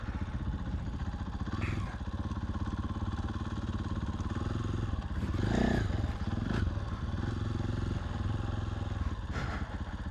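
A motorcycle engine runs steadily nearby as the rider works the clutch on an obstacle course with logs, its low drone swelling briefly in the middle, with a few light clatters alongside.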